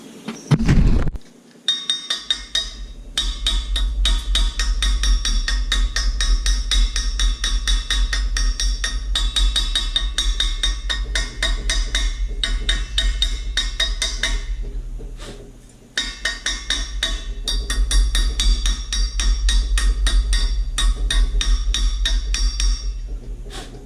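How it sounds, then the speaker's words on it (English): Hammer chipping slag off freshly cooled metal welds, a rapid run of bright metallic clinks and taps, close and loud, with a brief pause midway before the chipping resumes. "I'm gonna let it cool and chip off the slag and see what we've got."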